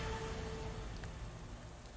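Rain in the video game Shadows Over Loathing falls as a soft, steady, even hiss of drops on a surface, faint and continuous with no talking.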